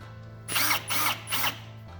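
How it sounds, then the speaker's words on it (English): A power drill bores a guide hole in a pottery wheel's motor mount, three loud, close whirring bursts with short pauses between. "So I'll drill into that,"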